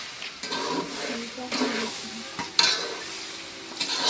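Rice coated in ginger garlic paste is stir-fried in a pot, a soft sizzle under repeated scraping and stirring strokes with a few sharper clinks of a utensil against the metal.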